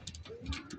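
Pigeons cooing in a short, quiet burst of soft throaty coos, with faint speech in the background.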